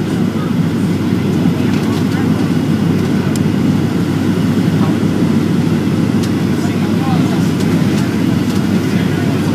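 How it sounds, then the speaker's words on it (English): Boeing 737-700 making a fast no-flap emergency landing at LAX, heard from inside the cabin as a steady, loud low roar of engines and airflow that holds without a break throughout. "It's going to be a fast landing."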